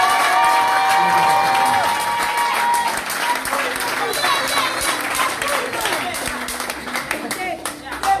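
A church congregation claps and cheers for Jesus, with a steady wash of applause and crowd voices that continues throughout and rises toward the end.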